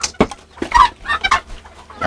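Serama chickens clucking at close range in a backyard pen, a run of short throaty clucks and squawks arriving in uneven bursts with no talk over them.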